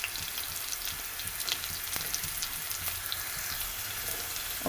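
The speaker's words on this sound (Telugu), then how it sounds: "Onion వేగనిద్దామండి 2 minutes." Onions fry in a pan with a steady crackling sizzle and scattered pops, close and continuous, with no talk.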